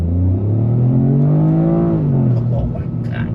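Engine of a 2025 Toyota GR Corolla, a turbocharged three-cylinder, pulling hard at full throttle from inside the cabin, its steady droning tone rising in pitch through one long gear before easing off.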